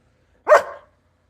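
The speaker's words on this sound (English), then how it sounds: "This is my dog." A single short dog bark rings out close and loud in an otherwise quiet room, one sharp burst with a brief tail, and no talking during it.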